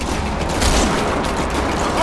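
Gunfire from Metal Gear Solid V: The Phantom Pain, a dense, continuous clatter of shots with mechanical rattling, loud and unbroken, with muffled noise behind it.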